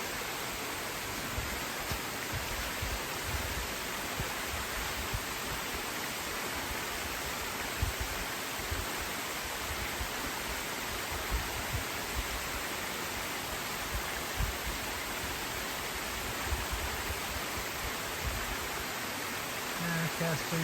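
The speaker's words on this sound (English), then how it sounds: "Here's the falls." A tall waterfall on the Appalachian Trail cascades down over rocks, producing a constant, even rushing hiss that stays steady and fairly distant throughout.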